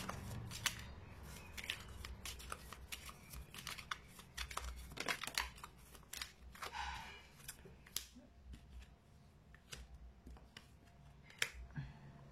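Tarot cards being shuffled and drawn at close range, a quiet run of irregular papery snaps, flicks and rustles with brief pauses between them.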